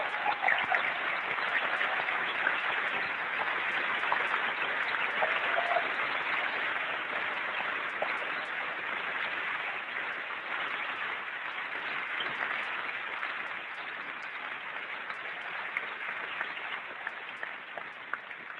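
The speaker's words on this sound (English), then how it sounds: "I'd like to give them a round of applause." Sustained applause from a large audience at the Macworld New York 1999 keynote, a dense, steady clatter of clapping that lasts throughout and fades slightly toward the end, with no speech.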